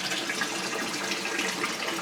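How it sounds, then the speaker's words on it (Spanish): Cold mountain water runs steadily from a stone fountain spout near the village of Alájar, a continuous close splashing gush with no voices over it. "Fijaos, por aquí tenéis otro caño de agua."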